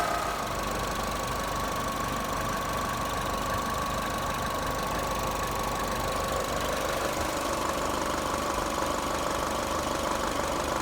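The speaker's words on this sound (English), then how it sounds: "Alternator sounds a wee bit noisy" Suzuki SX4 engine idling with a slightly noisy alternator, a steady close mechanical drone with a faint whine and light knocking texture, continuous and unchanging throughout with no voices.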